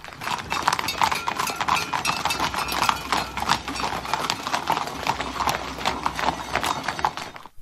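Rapid clip-clop of horse hooves on a hard surface, steady and close, with a brief whinny-like sound in the mix.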